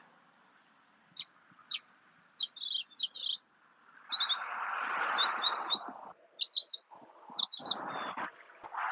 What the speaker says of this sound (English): The bird here, you could hear the bird.